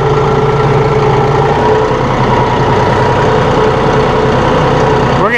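A 2016 John Deere 5045E utility tractor, 45 engine horsepower, runs steadily close by with a loud, continuous diesel drone and no voices over it.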